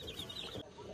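Hens near a home chicken coop, clucking in a quick burst of sharp calls before stopping abruptly, with a faint murmur of outdoor background.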